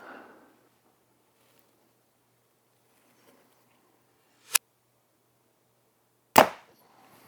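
An Elite compound bow fires two arrows during a speed test, each release a sharp, sudden snap with near-silence between them. The second shot is louder and followed by a brief rattle.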